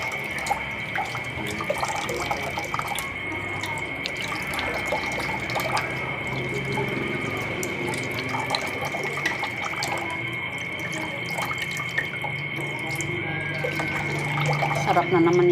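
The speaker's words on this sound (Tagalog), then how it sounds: "Hugasan natin yung kamatis." Tap water runs steadily into a kitchen sink while tomatoes are rinsed, a continuous close hiss with faint splashes and clinks throughout, and a voice speaking over it at times.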